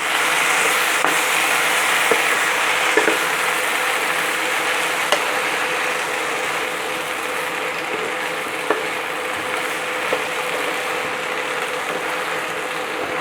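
Long-cut brinjal sizzles steadily in a pan over a low flame, a soft continuous frying hiss with faint scattered pops and ticks, heard alone throughout.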